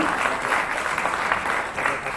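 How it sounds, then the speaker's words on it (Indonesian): Audience at a fintech launch event breaking into steady applause, a loud continuous crackle of many hands clapping at once. "boleh kita berikan tepuk tangan"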